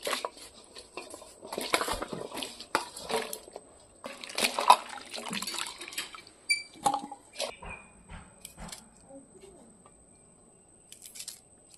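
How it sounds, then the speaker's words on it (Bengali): Chopped cauliflower and potatoes are washed by hand in a bowl of water in a village kitchen, with steady sloshing, splashing and rubbing that rises and falls, quieter toward the end, with birds calling in the background. "এখন আমি এগুলো ধুয়ে নিব"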